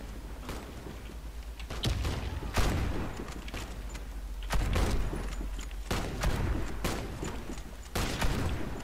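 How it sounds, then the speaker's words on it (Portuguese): Gunfire in the Warface shooter game, with a string of sharp, loud shots spaced irregularly over a steady low background, a few heavier booming blasts among them. "como assim eu não acertei nenhum desses tiros"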